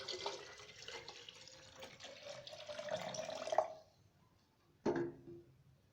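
Milk pours into a jug of sugar and water while a sweet Tukh Malanga sharbat is being mixed. A steady liquid stream runs for about four seconds, then stops, followed by a short splash.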